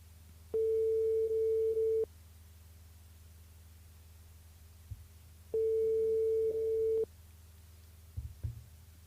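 Two long steady electronic tones, each about one and a half seconds, ring out on an unanswered phone call during a live radio broadcast, separated by a quiet gap with a faint handling noise near the end.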